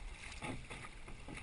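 Kayak paddling on breezy Lake Cunningham in Nassau, Bahamas, with soft rhythmic splashes of the paddle over steady wind noise, close and fairly quiet.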